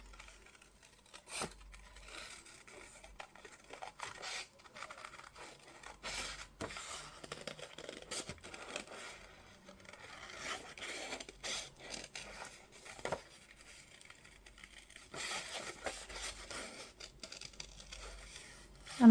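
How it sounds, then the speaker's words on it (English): Giant scissors fussy cutting around a paper flower for a no-sew junk journal, with quiet close snips and soft paper rustles and crinkles in an irregular pattern, no talking. "I love to fussy cut with my giant scissors"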